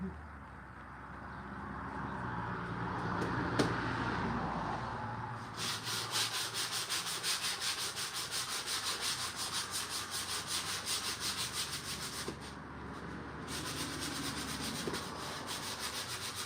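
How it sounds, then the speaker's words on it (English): Sandpaper of 150 grit rubs over a wooden egg holder in steady, rhythmic back-and-forth strokes, close and fairly quiet, after a short lull of low room noise. "Getting out some sandpaper."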